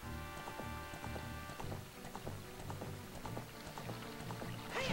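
A horse gallops in Zelda Ocarina of Time, its quick, even clip-clop hoofbeats repeating steadily over sustained in-game music.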